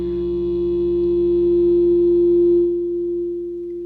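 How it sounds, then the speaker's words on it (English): A guitar amp, pushed by a sustain generator and a raised volume knob, feeds back as a single loud, pure, steady tone that holds for a few seconds and then drops slightly in level. "if I combine that with this volume knob, I'm going to start getting feedback pretty quickly"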